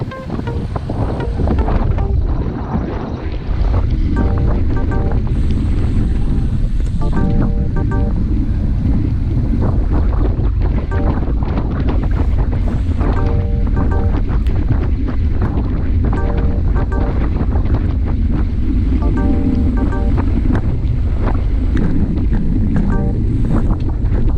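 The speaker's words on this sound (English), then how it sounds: "That wind is swirling around." Wind buffeting the microphone during a group bicycle ride, a loud, continuous rushing roar with gusty swells that persists for the whole stretch.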